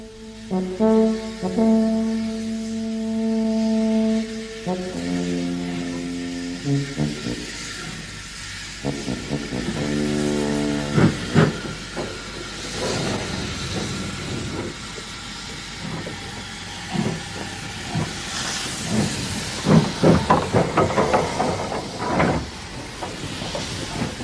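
A steam locomotive hauling an intercity express sounds its whistle with long, sustained tones, then thunders past at speed with hissing steam and rhythmic chugging that swells loud and close.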